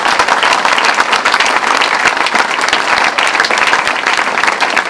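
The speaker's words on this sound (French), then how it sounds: "je vous propose de les applaudir" A large crowd at a formal evening gathering in Paris applauds police, gendarmes and firefighters, a dense, sustained wash of clapping that holds steady and loud throughout with no voices above it.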